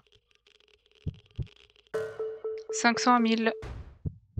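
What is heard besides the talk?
heartbeat sound effect in the video game Ghost Watchers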